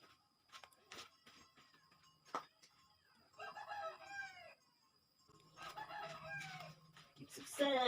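A rooster crows at close range on a farm, several harmonic calls rising and falling, with chickens clucking around it and people talking quietly nearby in Thai.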